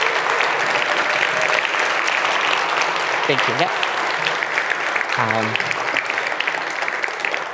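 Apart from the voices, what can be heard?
audience applause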